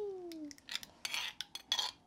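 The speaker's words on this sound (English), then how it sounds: "let me first just transfer the dip into our serving bowl right here" Utensils scraping and clinking against a serving bowl as shrimp paste dip is spooned in, a string of short metallic taps and scrapes with a ringing tone at the start, close and fairly quiet, without speech.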